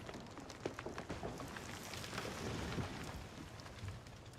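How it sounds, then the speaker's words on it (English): Heavy rain in a survival video game falls as a dense, steady hiss with scattered patters, faint and continuous throughout. "That's a lot of rain."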